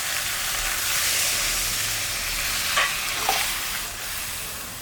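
Sautéed jackfruit in a pan sizzles loudly as water goes in, a steady hiss of frying and steam with a couple of brief sharper bursts and no voices.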